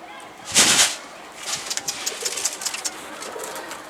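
Tumbler pigeons coo near a person holding feed. A sharp rush of noise comes first, then a string of soft, pulsing coos and short flutters.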